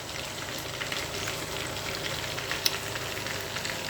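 Chicken adobo sizzles steadily in a pan while being stirred, a close, continuous frying hiss with one sharp utensil tick partway through.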